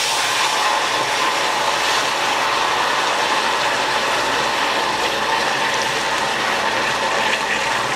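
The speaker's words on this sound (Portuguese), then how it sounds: "Agora eu vou colocar a água." Water pours into a saucepan holding a cup of sugar for strawberry caramel, a continuous loud splashing rush lasting several seconds with no talking over it.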